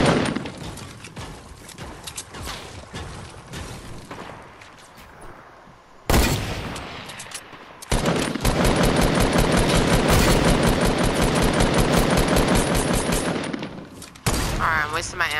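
Gunfire in the Fortnite video game: scattered shots early on, then a burst and long, loud sustained automatic fire, with a voice talking over parts of it.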